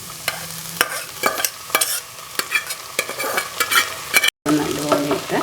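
Cooked sprouted green gram being sautéed and stirred in a pan, with repeated sharp scraping strokes of a spoon over a steady soft sizzle, close and fairly loud, with a brief cut near the end.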